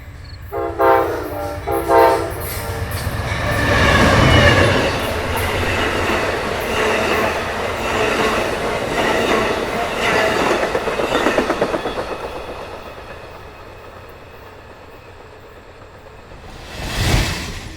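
An eastbound Amtrak Capitol Limited passenger train roars through Kensington, Maryland, a loud sustained rumble of rail cars with clickety-clack wheels building and fading, followed by a short horn blast near the end.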